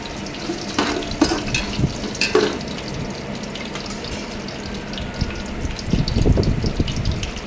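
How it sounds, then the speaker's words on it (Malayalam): Whole spices (cinnamon, cloves, bay leaf and cardamom) sizzling in ghee for ghee rice: a steady close crackle and hiss with a few louder spits and stirring clatters, no voices. "ഇനി അതിലേക്ക് പട്ട, ഗ്രാമ്പു, ബേ ലീഫ്, ഏലക്കായ എല്ലാം ഇട്ട് കൊടുക്കാം. ഇതെല്ലാം നന്നായി മൂപ്പിച്ചെടുക്കാം."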